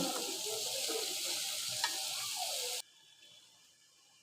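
Potatoes being stirred into spice paste in a frying pan give a dense, close sizzle with scraping spoon movements for nearly three seconds, then the sound cuts off to a faint quiet background.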